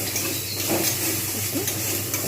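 Okra fries in a pan with salt and turmeric and is stirred, a constant close sizzle and hiss with soft scraping under it.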